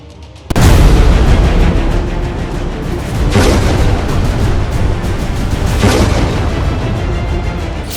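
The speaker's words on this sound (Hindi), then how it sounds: "धमाके हुए हैं, जेट तैयारों से बमबारी की गई है, ड्रोन से मिसाइल मारा गया है" Explosions from jet bombing and drone missile strikes in Pakistan: a sudden loud blast gives way to a sustained rumbling roar, with two further heavy bursts a few seconds apart and no voices.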